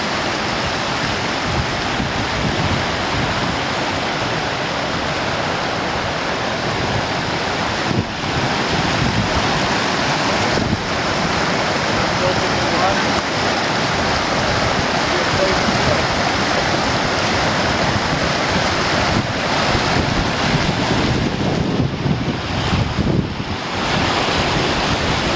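A roaring river rushes beneath a hiking trail bridge in the Boundary Waters wilderness: a loud, steady wash of turbulent water with wind buffeting the microphone throughout.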